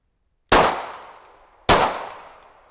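Two sharp pistol shots fired at targets, about a second apart, each with a loud crack and a short ringing decay in an otherwise quiet setting.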